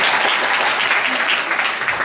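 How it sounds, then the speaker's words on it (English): A school concert audience claps warmly for a student bottle band and vocal groups, a full, continuous burst of applause filling the room. "Go ahead, clap, go ahead"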